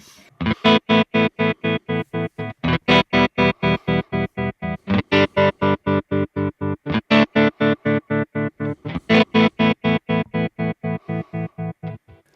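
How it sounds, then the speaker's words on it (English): A distorted electric guitar runs through a Kemper Profiler's slicer tremolo, chopping the tone into rapid, even on-off pulses with hard square edges, loud and alone with no talking. "So the next one is the slicer, which is something, yeah, some modern one which cuts."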